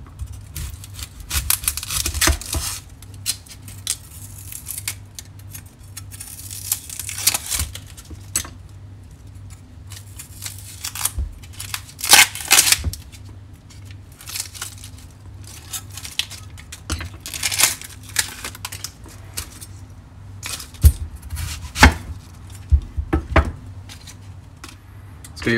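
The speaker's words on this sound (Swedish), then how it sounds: "Ska skala löken." Knife work on an onion being peeled and cut for beetroot borscht: irregular close taps and scrapes with soft rustling, scattered sharp chops over a quiet kitchen hum, no talking.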